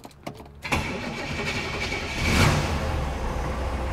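A 1963 Chevrolet Corvette coupe cranks briefly, then fires and catches, settling into a loud, lumpy idle with a short swell of revs. The engine is close by and no one speaks over it.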